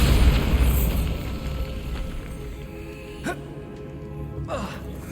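Bombarda blasting spell in Hogwarts Legacy: a heavy explosive boom rolls through a dense game soundscape, followed by a couple of sharp bursting pops later on.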